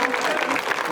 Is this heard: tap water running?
no